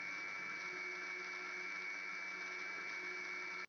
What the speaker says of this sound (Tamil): திரும்பவும் மிக்சியை லோ ஸ்பீடில் அரைச்சி எடுத்துக்குங்க.